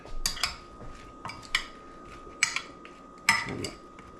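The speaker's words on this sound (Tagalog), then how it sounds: "Stirred lang natin mga kabuli." Cutlery clinks and scrapes against a pan as food for steak with Brussels sprouts, corn and sweet potato is stirred, giving several sharp metallic taps in an uneven rhythm over a steady hum.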